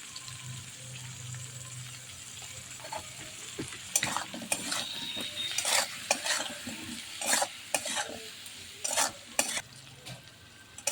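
Potatoes frying in a pan with salt and turmeric, a low sizzle broken by repeated sharp scraping stirs of a spatula, close and uneven in rhythm, with no talking.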